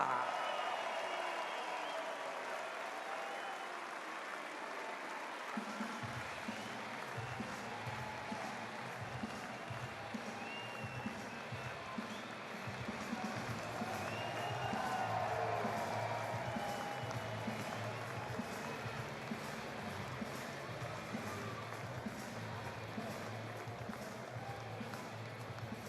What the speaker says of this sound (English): applaudir très fort et par encourager l'équipe d'Autriche